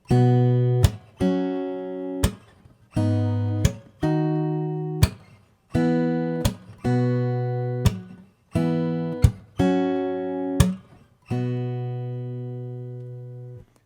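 Acoustic guitar chords of a 4-bar progression from a song ring out one after another at a slow, even pace, each struck and left to decay before the next.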